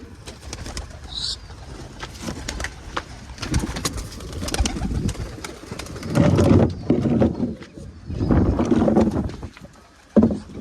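Pigeons coo in low, rolling bursts nearby over steady background rustle, with a brief high chirp near the start.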